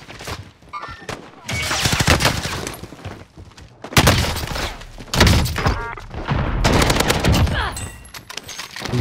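Heavy gunfire in Call of Duty Warzone: loud, repeated bursts of rapid shots and thumping impacts come in waves with brief lulls between them, close and intense.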